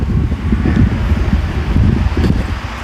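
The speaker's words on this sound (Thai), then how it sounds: "ลมแรงมากเลยทุกคนตอนนี้" Strong wind buffets a microphone outdoors beside a water gate in Sakon Nakhon, a steady loud roar with gusty low rumble throughout and no talk.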